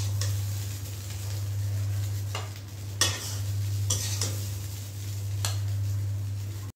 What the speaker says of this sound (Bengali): এখন আমি আবার ভাত ভাজা করে নিচ্ছি